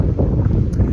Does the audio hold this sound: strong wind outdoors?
yes